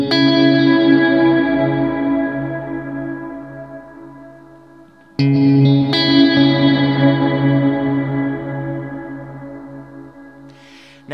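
Ambient electric guitar tone through a Kemper with delays and reverb: sustained chords bloom and slowly decay in long echoing tails, then a fresh strum swells up midway and fades again.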